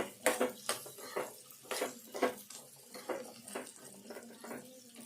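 A chickpea mixture stirred in a pan, a series of rhythmic scraping strokes about every half second, close and clear, with no talk over them.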